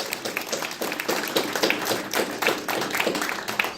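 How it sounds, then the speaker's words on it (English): A small audience applauds at a university alumni award ceremony, with uneven clapping that comes in quick, scattered bursts at moderate volume and no voices over it. "Let's give her one more round of applause."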